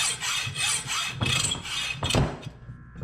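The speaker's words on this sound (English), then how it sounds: "I just saw it off with a hacksaw." Hacksaw cutting through a carbon steel pin: repeated scraping strokes back and forth at a steady rhythm, close and fairly loud, ending with a short pause.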